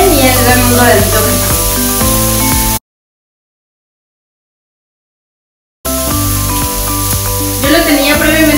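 Food marinated in olive oil, salt and plenty of pepper sears untouched in a hot pan, giving a loud, steady sizzle under music. The sound cuts out for about three seconds and then resumes.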